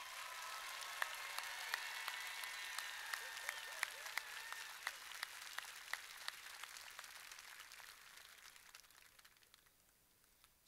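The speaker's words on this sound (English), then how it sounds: "Let's give them a round of applause." A high school graduation audience applauds a military-bound group of graduates standing to be thanked, sustained clapping from a large crowd in a hall that holds steady, then thins and fades out near the end.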